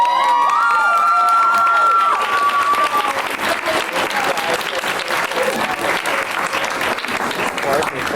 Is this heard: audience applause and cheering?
yes